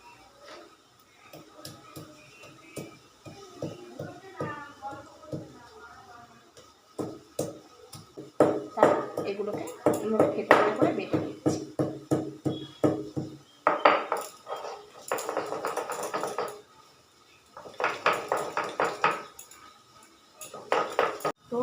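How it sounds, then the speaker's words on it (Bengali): Ginger, cinnamon, cloves and cardamom are crushed on a stone grinding slab, giving rhythmic scraping and knocking strokes that come in bursts, louder in the middle and later stretches, with brief pauses between. "শিলের মধ্যে আদা দারচিনি লবঙ্গ আর এলাচ দিয়ে দিয়েছি এবার এগুলোকে একটু বেটে নেবো"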